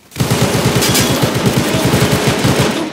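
Machine gun fire in a video game, a loud, sustained burst of rapid, evenly spaced shots that runs for about three seconds without a break.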